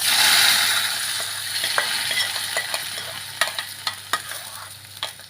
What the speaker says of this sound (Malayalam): നമ്മുടെ താളിപ്പ് റെഡി ആയിട്ടുണ്ട് ഇത് നമുക്ക് മീൻകറിയിലോട്ട് ചേർത്ത് കൊടുക്കാം